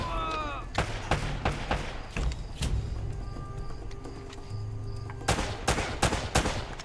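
Pistol fire in the action video game Uncharted: Drake's Fortune, a string of sharp, loud shots in quick irregular bursts, with a pause in the middle before another rapid cluster near the end.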